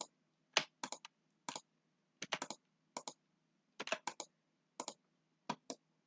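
Computer keyboard keys pressed in quick, irregular bursts of clicks with brief pauses between, close but quiet in an otherwise silent room.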